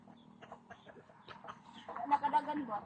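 A chicken clucks faintly in a rural backyard, mixed under nearby conversation that grows louder toward the end.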